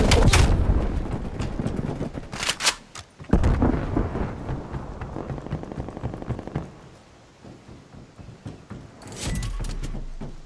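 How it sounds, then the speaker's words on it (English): A Semtex grenade detonates in Black Ops Cold War multiplayer, a sharp loud blast among a busy spread of cracks and bangs, followed by quieter rumbling and another heavy burst near the end. "Throwing Semtex."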